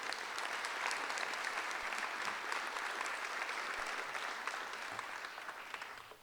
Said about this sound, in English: you should give all of yourselves a round of applause for being the best